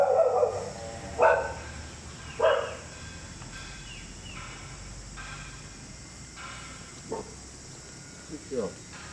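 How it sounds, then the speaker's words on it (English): Dogs bark in several short separate outbursts at a Buddhist temple in Siem Reap, Cambodia, moderately near, with crickets or insects droning steadily underneath and a few faint words in between. "I just don't know if these dogs will let us in here."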